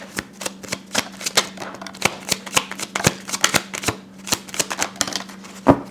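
Tarot cards shuffled by hand, a rapid close series of crisp papery riffles and flicks, steady and fairly loud, over a faint low background hum.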